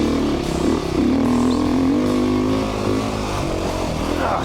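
A 2019 Beta 390 RR Race Edition dirt bike rides over rocks, its engine droning loud and continuous up close with rising and falling pitch as the throttle shifts, drowning out any rock impacts.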